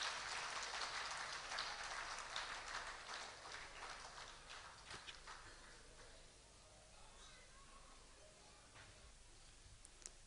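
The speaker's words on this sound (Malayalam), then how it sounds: "കയ്യടികളോടെ നമുക്ക് അദ്ദേഹത്തെ സ്വീകരിക്കാം." Crowd applause welcoming a young Indian football player at a Malayali community event in 2010, a dense burst of clapping that gradually thins and fades over about ten seconds.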